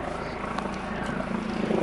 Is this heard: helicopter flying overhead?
yes